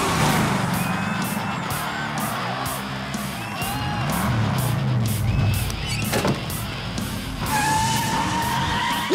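Cartoon cars at the start of a demolition derby rev their engines and skid their tires in a loud, busy burst, with whooshing effects layered over the engine noise.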